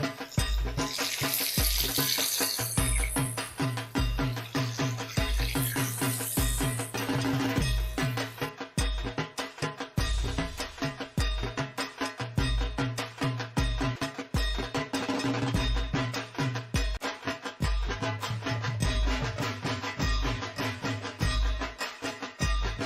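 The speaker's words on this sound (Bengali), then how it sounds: "আমি যেরকম ভাবে ভাজছি ঠিক সেরকম ভাবে ভাজার চেষ্টা করবেন।" Shor bhaja, a Bengali sweet, frying in a pan of hot fat, a steady dense sizzle alongside repeated thuds and clinks from two spatulas stirring.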